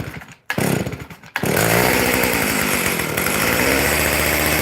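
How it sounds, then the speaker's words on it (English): A vintage Stihl chainsaw cold-starting: two short pull-cord tugs, then the two-stroke engine catches and runs loud and close with a steady buzzing drone. "This chainsaw has been really good to me also."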